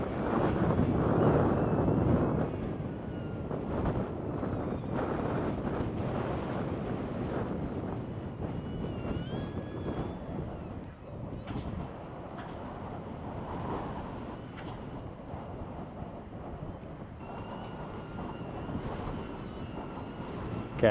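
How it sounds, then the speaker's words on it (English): Strong gusty wind buffets the microphone of a DJI Neo drone in flight continuously, loud at first and then easing slightly, with no voices. "Oh, it's so windy."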